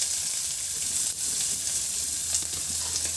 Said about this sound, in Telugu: కొంచెం ఆయిల్ వేసుకొని ఆయిల్ కాగాక అప్పుడు ఉల్లిపాయ ముక్కలు వేసుకోవాలి.